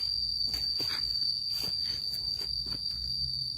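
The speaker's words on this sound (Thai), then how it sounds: "โอ้เสียงจิ้งหรีดดังมากเลยเนาะ" Crickets chirp outdoors with a loud, continuous high-pitched trill held steady throughout, while scattered soft rustles and knocks sound nearby.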